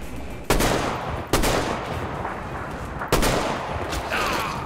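Three loud, sharp gunshots from the Metro Exodus: Enhanced Edition video game crack out at uneven intervals, each trailing off into a long echoing rumble over steady background noise.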